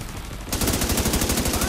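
Gunfire in The Division 2: after a half-second lull, a rapid burst of automatic shots breaks out, loud and close, with evenly spaced cracks continuing to the end.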